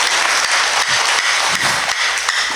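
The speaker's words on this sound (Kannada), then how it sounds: "ಚಪ್ಪಾಳೆ ದೊಟ್ಟಿಗೆ ಅಭಿನಂದನೆ ಪಂಡದು" Loud applause from an audience at a public felicitation event in Puttur for MLA Ashok Rai, a dense sustained clatter of many hands with slight surges, near and continuous throughout.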